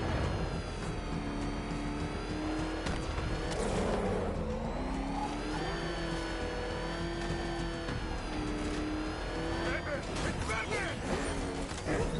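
A video game car engine in Batman: Arkham Knight revs and accelerates as the vehicle speeds off, with a whirring, rising and falling drone and tire noise beneath continuous shouting voices.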